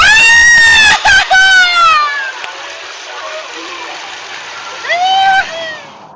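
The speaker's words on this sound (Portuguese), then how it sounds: "E dá um grito." A person screams loudly while riding backward down an amusement park water slide, two sustained shrieks separated by quieter rushing water and faint voices, then a final shorter scream.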